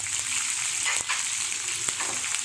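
Chopped onion sizzles steadily in hot oil in a pan, a continuous bright frying hiss with a couple of brief stirring clicks, close and alone without talk.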